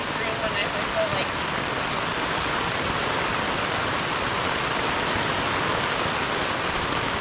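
Pouring rain at about five in the morning, a steady, dense broadband wash of falling water that stays even and close for the whole stretch, with no voices.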